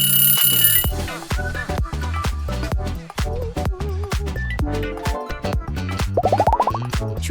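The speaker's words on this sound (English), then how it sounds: "Choose your alarm clock, vintage ring or smart wake up." A vintage alarm clock rings loudly and continuously, its bell hammering in a rapid metallic clatter mixed with bright chiming tones.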